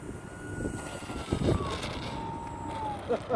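E-flite P-47D Thunderbolt RC plane taking off in gusty wind, its electric motor whining as a rising then falling tone under steady wind rumble, moderately loud and fairly close.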